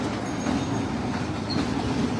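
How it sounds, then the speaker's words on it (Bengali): An electric mini train runs through Karnaphuli children's park, giving a steady close rumble of wheels and carriages with a faint clickety-clack and light squeal on top. "এই শিশু পার্কের মধ্যেই এই ট্রেনগুলি, মিনি ট্রেন যেগুলিকে বলে"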